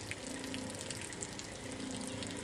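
Water runs steadily through the hose of a First Water Systems purification system, a constant close hiss and rush with no pauses.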